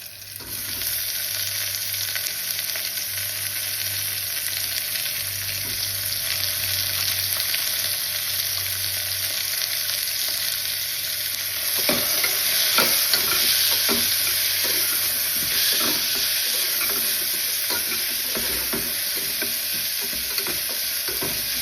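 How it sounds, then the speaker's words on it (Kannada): Curry leaves frying in a pan for sambar, with tomatoes then added, giving a constant loud sizzle that turns busier and crackly about halfway, with several scraping stirs. "ಕರಿಬೇವು ನೀಟಾಗಿ ಫ್ರೈ ಆಗಿದೆ. ಈಗ ಸ್ವಲ್ಪ ಟೊಮೆಟೊ ಹಾಕೋಣ."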